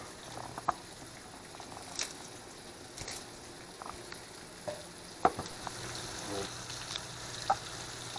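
Short ribs browning in a hot pan give a steady close sizzle and hiss with scattered sharp pops and crackles, broadband and continuous throughout, with no talking.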